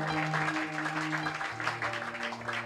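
Church congregation cheering and applauding for the Lord during a French-language service, a steady wash of claps and shouts blended with sustained musical tones, moderately quiet and continuous.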